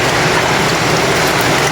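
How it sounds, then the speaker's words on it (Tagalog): Continuous rain falls around a house, a dense and steady hiss that stays loud and unbroken with no voices. "Sige gyapong ulan, guys."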